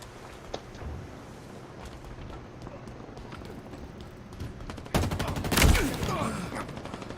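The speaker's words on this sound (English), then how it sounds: "Oh, that was one of the bombs." In Halo Infinite gameplay, a bomb goes off: a sudden loud broadband blast with a second, heavier boom just after it. Both rise out of a steady layer of rumbling battle noise and scattered gunfire.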